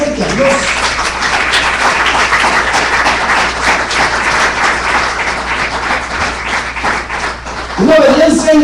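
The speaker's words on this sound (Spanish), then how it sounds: "denle un aplauso bien fuerte a Dios" A church congregation bursts into loud, sustained applause and clapping that runs for several seconds, with a preacher's voice speaking over it near the end.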